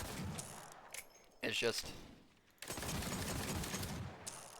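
Pistol shots from The Simpsons video game, a weapon similar to the Mr. Blasty pistol: a burst of sharp rapid reports at the start and middle, with a sustained loud crackle of fire toward the end, someone talking over parts of it.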